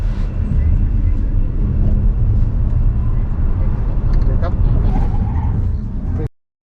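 A Volvo XC40 Recharge electric SUV accelerating from 0 to 100 km/h: a loud, steady roar of tyre and wind noise fills about six seconds close to the cabin, then cuts off abruptly.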